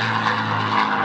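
P-51 Mustang piston engine and propeller at the La Ferté-Alais airshow: a loud, continuous rumbling drone with a throbbing propeller buzz, steady and close, with no voices.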